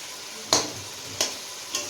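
Mutton sautéing in a pan, a steady low sizzle with three sharp scraping stirs of a spoon against the pan spaced apart.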